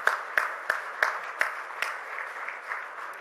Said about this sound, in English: Can we continue with a round of applause